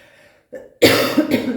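Two sharp, harsh coughs from one person burst out close to the microphone in quick succession, following a brief faint throaty sound.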